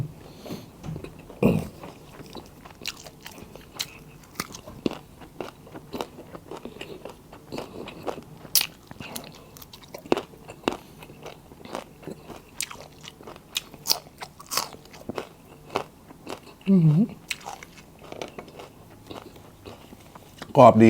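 Crunchy Thai fermented fish dish being bitten and chewed up close, a string of crisp crunches and chewing bursts spread through the stretch, with a few louder bites standing out.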